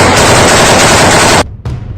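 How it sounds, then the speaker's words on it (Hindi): Heavy automatic gunfire from Chechen fighters firing inside a room, a loud, dense burst of rapid shots lasting over a second, then a brief pause and a short renewed burst. "यूक्रेन के जारी वीडियो में कादिरोव के कई लड़ाके एक कमरे में खड़े होकर जोरदार फायरिंग करते नजर आ रहे हैं।"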